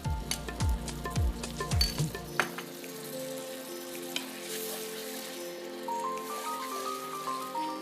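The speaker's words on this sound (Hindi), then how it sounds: "अभी मसाले में डाला दही, लगभग आधा कप है जी।" Curd poured into hot sizzling masala in a pan for jhangora (barnyard millet) biryani, with a few sharp stirring clatters at first, then a steady close frying hiss that settles into a quieter sizzle.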